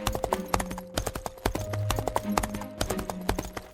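Horse hooves clip-clop in a quick, steady rhythm, sharp close knocks repeating throughout over a faint tonal background.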